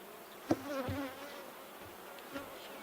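Honeybees in an opened hive make a quiet, thin buzz, with a couple of soft knocks and rustles over the low hum.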